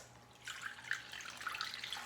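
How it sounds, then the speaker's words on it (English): Chicken stock, a full 4 cups, poured into a batter bowl in a home kitchen, a soft splashing liquid trickle that swells and continues steadily at moderate, faint level, with no talking. "So I'm going to pour that in."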